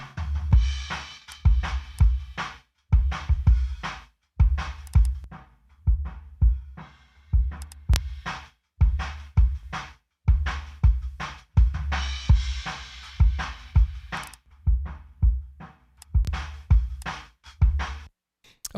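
A kick drum captured by the outside mic in an SSL-style drum mix thumps in a steady repeating pattern, each hit a deep punchy boom with a clicky attack as EQ is switched in and out.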